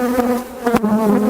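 Honeybees buzzing close by during a hive inspection in a Demaree manipulation, a steady, loud droning hum with a couple of brief louder passes as bees fly near.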